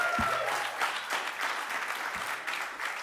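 Audience applause at a panel on subnational climate action, a short burst of steady clapping from a room full of people, fairly loud and continuous with no talk over it.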